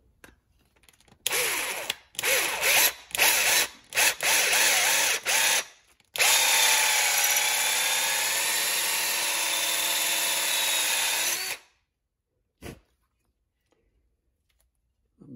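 Drill bit spun through the bushings of a Quadrajet carburetor: several short loud drill bursts separated by pauses, then one long steady whine of about five seconds, close up, with no talk.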